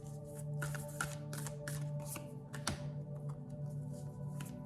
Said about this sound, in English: so we'll start shuffling out the cards now.